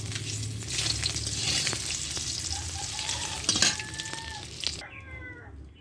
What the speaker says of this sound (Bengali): ডিম ভাজা হয়ে গেছে, আমি এবার উঠাই নেব।